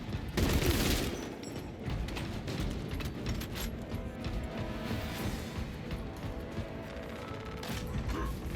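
Bombs and gunfire in the Space Marine video game on Absolute difficulty, a loud burst of explosions followed by dense, continuous rattling fire and crashing battle noise with no talk.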